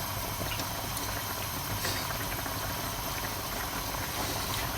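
Chicken casserole with chicken breasts and finely chopped vegetables simmering in a pot, giving a steady, continuous bubbling hiss at an even level throughout with no talking.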